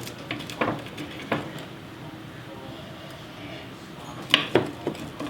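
A knife cutting through a slice of sourdough pizza, a few soft scraping and tapping contacts against the pan or board, close and fairly quiet with quiet gaps between strokes.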